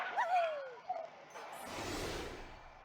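Pup, the cartoon dog hero in the Farm Heroes Saga puzzle game, gives a few short yipping barks near the start, followed by a brighter burst of game sound effects with no talking.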